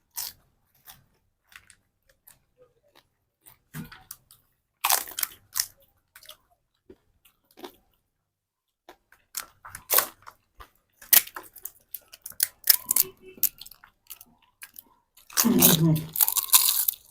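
Pani puri is crunched and chewed during a 150-piece eating challenge, with scattered close bites and crisp crunches separated by quiet gaps and a loud burst of chewing near the end.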